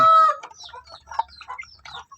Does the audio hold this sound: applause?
no